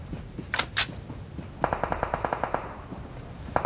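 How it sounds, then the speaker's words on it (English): Gunfire in a battle royale video game, including an M4 rifle: two sharp shots, then a rapid automatic burst of about a dozen evenly spaced cracks. The shots sound fairly close and moderately loud, with no talk over them. "The serene tranquility of the countryside shattered here by the explosiveness of gunshots from Squad 6 and 7."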